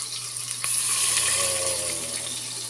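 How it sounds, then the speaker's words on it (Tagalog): Water pours steadily into a cooking pot for sinigang na bangus, a milkfish sour soup, as a close, continuous splashing gush that swells and then eases off. "lagyan po natin ng tubig."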